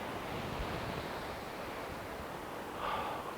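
Sea waves wash onto the shore in a soft, continuous rush of surf by the sea, with faint wind noise and a slight swell near the end.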